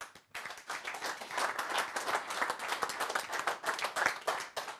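A studio audience at a football talk show breaks into steady, dense applause as a guest enters, clapping sustained and even throughout with no voices over it.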